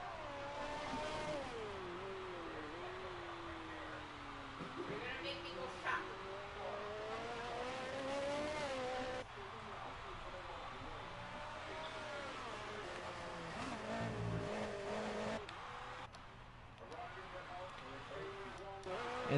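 A 1978 Lotus Formula 1 car races through the final corner at the Hockenheimring in a classic racing exhibition, its engine note rising and falling with gear changes, running continuously beneath steady commentary.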